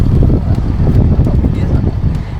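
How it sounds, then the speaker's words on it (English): Gusty wind on Australia's south coast buffets the microphone with a loud, rumbling low roar that rises and falls through the short stretch. "It is a bit windy."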